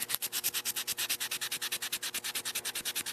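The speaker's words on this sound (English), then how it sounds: "all I'm going to use today is a 400 grit emery sandpaper to clean that off." Steady rhythmic scrubbing as 400 grit emery sandpaper is rubbed back and forth over a chainsaw carburetor from a Jonsered 2071 to clean off dirt and gasket material, roughly eight even strokes per second, close up.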